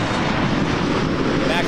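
A WestJet Boeing 737 Max 8 at Toronto Pearson Airport gives off a steady, loud jet engine rumble that stays constant for the whole brief stretch, with a voice speaking over it.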